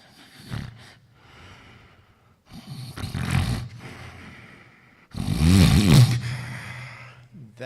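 A person imitates crescendo snoring, with rough snorting breaths starting low and quiet and building into loud, harsh snores in separate bursts.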